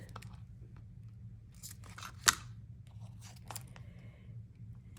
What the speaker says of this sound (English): So get my scissors again.